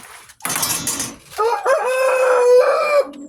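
A three-month-old shamo broodcock rooster crows loud and close: a short burst of rough clucking, then one long strained crow that holds steady and breaks off sharply.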